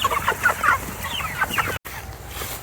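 Meat chickens in a chicken tractor cluck and squawk busily at close range, with overlapping calls that briefly drop out before resuming more softly.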